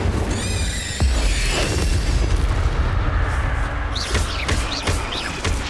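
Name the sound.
Incendio fire spell cast, from the video game Hogwarts Legacy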